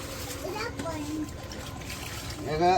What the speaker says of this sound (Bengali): তখন মুরগিরে পানি দিব, তো পানি ভরতেছে।